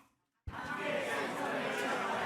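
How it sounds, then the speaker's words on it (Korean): A church congregation erupts in a sustained shout of voices at a Sunday morning service, loud and dense from the sudden start and holding steady to the end. "함성"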